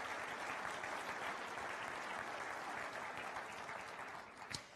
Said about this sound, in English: Would you join me in just a nice round of applause for all those folks?